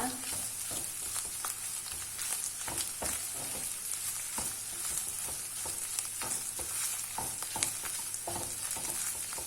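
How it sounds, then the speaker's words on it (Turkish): Tomato paste fries and sizzles in a pan for ali nazik kebab, a dense steady hiss broken by repeated scraping strokes of a spoon stirring it. "Karıştıralım. Salçanın da kavrulmasını bekleyelim."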